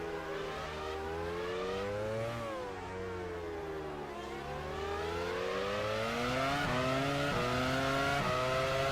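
Race cars in F1 Challenge 99-02 at the 2001 Malaysian Grand Prix, several high-revving engines layered together, pitches rising and falling through gear changes as cars overtake one another, loud and close throughout.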